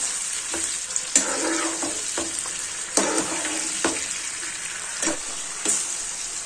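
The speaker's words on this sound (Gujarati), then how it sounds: "થોડીવાર આ રીતના તેલમાં સાતળી લેવાના છે મીડિયમ ગેસની ફ્લેમ ઉપર" Whole red chilies sauté in oil over a medium flame for a pickle, producing a continuous crackling sizzle with sharp stirring scrapes at irregular intervals.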